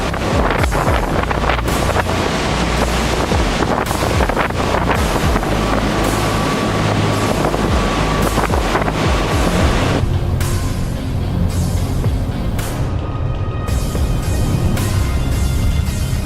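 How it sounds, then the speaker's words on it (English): A sea storm drives heavy waves against an oil rig and the West Navigator drill ship at Ormen Lange during storm Barrett, a constant loud roar of wind and crashing surf with buffeting wind noise across the whole stretch. "Amidst the sea storm, violent waves relentlessly battered the oil rig, causing it to shake violently"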